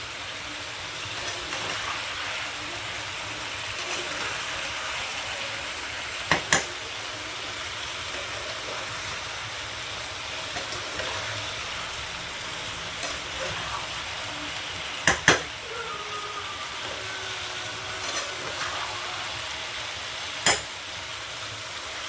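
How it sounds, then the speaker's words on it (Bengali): Vegetable curry for a vegetarian meal being stirred in a pan, a steady soft sizzle and frying hiss with a few sharp clinks of the spoon against the pan, close and alone without any talk. "এটা আমি ভালো করে এবার নেড়ে চেড়ে নেব।"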